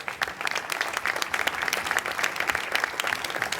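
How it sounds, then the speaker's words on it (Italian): Outdoor audience in Piazza Manzoni, Jesolo, breaking into sustained, dense applause, many hands clapping at once without a break. "li accogliamo con un grandissimo applauso"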